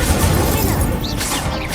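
A Confringo blasting spell goes off in Hogwarts Legacy as a loud, continuous burst of crashing, rumbling noise that holds for the whole moment.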